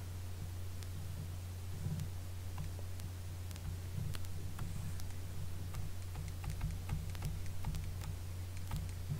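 Soft, quick taps on small keys click in an irregular rhythm over a steady low electrical hum, with no talking.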